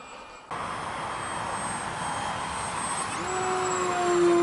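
E-flite Maule M7 radio-controlled plane on a 4S battery flying over ice, its electric motor giving a steady whine that holds and slowly climbs in pitch and loudness as it passes, with wind and no talk.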